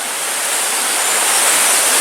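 A stream at Lumsdale Falls rushes steadily nearby, a bright, continuous hiss of flowing water that swells slightly louder with no voices over it.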